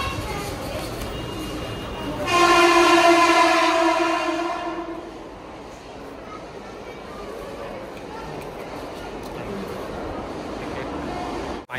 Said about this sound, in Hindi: देखिए ये है गोरेगांव स्टेशन